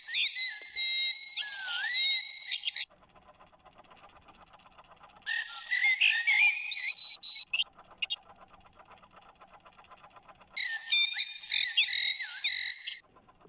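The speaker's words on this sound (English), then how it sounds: "8 o'clock is the blackbird." Recorded birdsong from a British bird clock striking eight o'clock, a blackbird's call in three loud bursts of bright warbling, separated by quieter gaps with faint ticking-like background.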